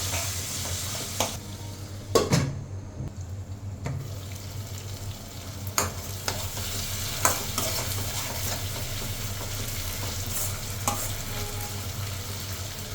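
Tomato pieces with onion, turmeric and salt cooking in a covered pan, giving a continuous low sizzle with a few brief clinks and knocks, close and steady, no talking.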